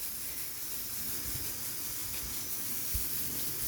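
Water sprayed from a hose onto freshly poured concrete, a steady broadband hiss that holds evenly throughout with faint low thuds beneath.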